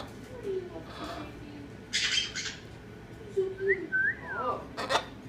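Pet lovebirds indoors give several short sharp squawks and whistling chirps in bursts, fairly close, with quiet pauses between calls and no talk.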